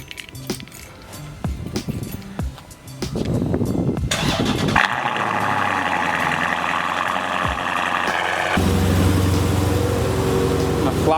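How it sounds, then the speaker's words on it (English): A motorcycle cold start: keys jangle and a few clicks, then the engine cranks and fires into a loud, steady idle that rises in pitch and intensity, recorded close up. "A little cold start action for you guys."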